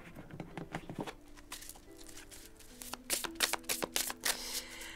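Tarot cards being shuffled for a reading, with a steady run of close, crisp riffling and soft flapping patter that grows busier toward the end, with no talking.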